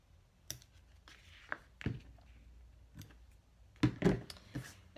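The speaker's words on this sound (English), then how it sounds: "I'm just gonna snip them apart here." Scissors snip apart chain-stitched threads on a cork wallet project, a handful of short, sharp clicks and cuts spaced irregularly against a quiet room.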